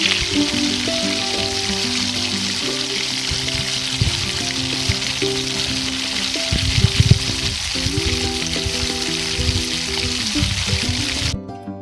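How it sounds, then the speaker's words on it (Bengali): Duck eggs fry in hot white oil in a wok for a village-style duck egg curry, a dense, loud, continuous crackling sizzle with bubbling pops and occasional knocks, alone throughout until it cuts off. "কড়াইতে সাদা তেল তেল গরম হয়ে যাওয়ার পরে ডিমগুলোকে তেলের মধ্যে দিয়ে দিই"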